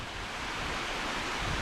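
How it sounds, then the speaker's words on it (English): Cascade Falls in Banff rushes steadily as a loud, dense roar of falling water, close and continuous throughout, with no voices. "This is it. This is Cascade Waterfalls."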